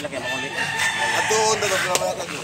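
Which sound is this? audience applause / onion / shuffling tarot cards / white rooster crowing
white rooster crowing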